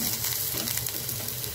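Onions fry in a pan with a dense, even sizzle and crackle throughout this short stretch, close and fairly loud, with no voices.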